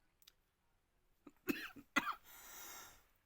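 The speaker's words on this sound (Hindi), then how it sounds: "थोड़ी तबीयत ठीक नहीं है इसलिए खांसी आ रही" A man who is feeling unwell coughs a few times in quick, harsh bursts, followed by a breathy exhale, close to the microphone in an otherwise quiet room.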